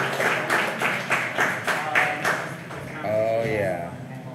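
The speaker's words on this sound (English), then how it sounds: "Let's get a round of applause for Marielle." An audience at an arts club meeting claps in a burst of rhythmic applause, steady and moderately loud, fading out as a voice begins speaking over the room.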